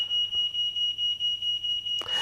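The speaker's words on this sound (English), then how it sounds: "my family are now setting off the smoke alarm again." A smoke alarm beeps in a rapid, steady pulsing pattern, piercing and high-pitched, ending with a burst of rustling noise.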